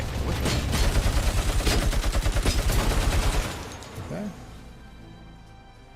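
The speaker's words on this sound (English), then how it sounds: "There's a sniper up there. It just started shooting." Rapid video game gunfire from a sniper perched up high, a loud, sustained burst of shots that cuts off abruptly, followed by a short spoken word and quieter game sounds.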